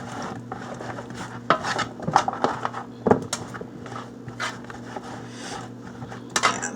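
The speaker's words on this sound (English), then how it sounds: "You'll see me separate my onions here." Onions being separated with a utensil in an oiled pan among chicken and vegetables, soft scraping and rubbing strokes with a few sharper knocks, close and moderately loud over a faint background hum.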